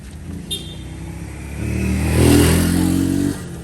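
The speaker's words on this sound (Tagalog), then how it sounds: "May motor" A motorcycle engine revs up nearby, rising to a loud steady roar for about two seconds before cutting back, after a brief quiet idle and a faint clatter at the start.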